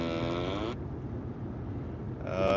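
A gadget plays a fart sound effect, a loud, drawn-out buzzing tone with a rough, low rumble under it that cuts off and briefly returns at the end.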